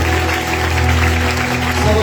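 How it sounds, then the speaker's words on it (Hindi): Audience clapping at a church revival meeting in Jhelum, a steady wash of applause with a low hum of music or amplification underneath, loud and continuous throughout. "तालियां बजाते हुए"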